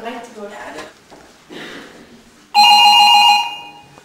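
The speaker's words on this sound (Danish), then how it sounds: "Hov, var det ikke telefonen?" A telephone rings loudly in one clear burst near the end, after quieter stretches of indoor sounds and Danish-speaking voices in a cozy kitchen scene.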